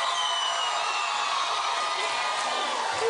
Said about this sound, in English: Clap one time for my co-host, my studio audience.